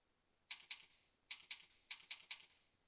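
Quiet, crisp keystrokes on a computer keyboard as a web address for Adobe is entered into a browser, arriving in short bursts of two or three taps with brief pauses between.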